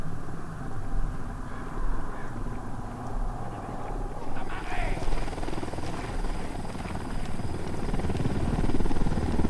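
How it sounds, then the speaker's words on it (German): A helicopter in the tactical shooter Ghost Recon Wildlands thumps steadily in the near background, its rotor drone growing louder toward the end. Voices talk over it. "Auf den Boden, Hubschrauber."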